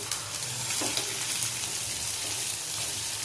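Whole cardamom, cinnamon and cloves frying in oil in a pan, a continuous close sizzle broken by a few light stirring scrapes.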